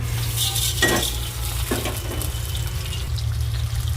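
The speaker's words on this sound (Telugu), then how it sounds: "ఇదిగోండి పోపులు ఇప్పుడు పోపులు వేపిస్తున్నాను" Tempering spices crackle and sizzle in hot oil, with a steady low hum and a few scraping stirs of a spoon against the pan.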